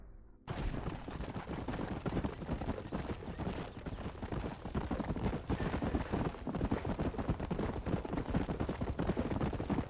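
Horse hooves galloping in the western video game Red Dead Redemption, a dense rapid clatter of hoofbeats that starts abruptly and keeps up steadily and loud throughout, with no talk over it.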